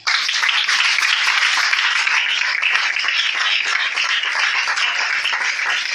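A church congregation applauds and cheers for Jesus, a steady, loud wash of clapping sustained throughout without pause.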